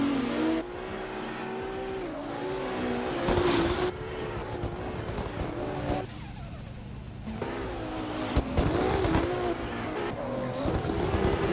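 Drift cars at a drift competition run, engines revving hard with rising and falling pitch, tires squealing through the zones, loud and continuous with a commentator talking over it.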